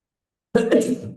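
During a church sermon, after a moment of silence, one loud, close cough bursts out, harsh and throaty, trailing off briefly.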